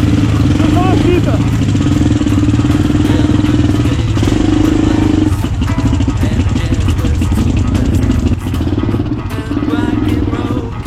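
A trail motorcycle engine runs loud and close with a steady rumbling drone on a rough off-road outing, while people talk over it.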